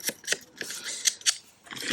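Scissors cut through paper for a junk journal page, making a few quick, soft snips and crisp rustles close by in a quiet room.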